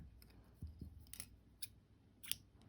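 Scissors trimming crochet yarn, several quick soft snips close by, faint and crisp against a quiet room.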